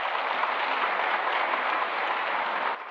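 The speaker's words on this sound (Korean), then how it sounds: "목사님 나오실 때 박수로 큰 환영해 주시기 바랍니다." A congregation at a memorial worship service for the Daegu March 1st independence movement claps to welcome the pastor. The applause is a dense, steady roar of many hands that holds evenly, then eases slightly at the very end.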